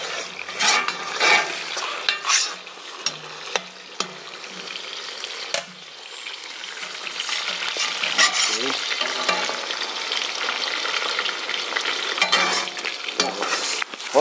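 Onion frying and sizzling in oil while a new kazan is seasoned for plov, with steady bubbling crackle and intermittent stirring scrapes against the pot, close and fairly loud throughout, no talking.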